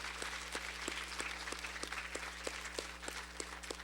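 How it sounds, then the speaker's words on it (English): Audience at a lecture applauding steadily, a dense wash of many hands clapping at moderate distance in a hall, continuous and even with no voices over it. "could you give her a very big round of applause?"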